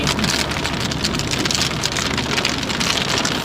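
Heavy rain falling steadily on surfaces, a dense loud hiss of drops that continues without a break and with no voice over it.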